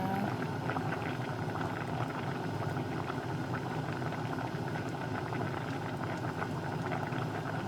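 Mushroom curry made with Norwegian mushrooms bubbles and simmers steadily in a pot, a continuous close burble of boiling liquid with no pauses and no voices.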